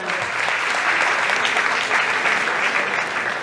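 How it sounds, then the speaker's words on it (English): A room full of people applauds to mark a bestselling crime-thriller book's milestone at a book event: a dense, steady wash of clapping hands that stays loud and even for a few seconds, with no voices. "So we give a round of applause for that."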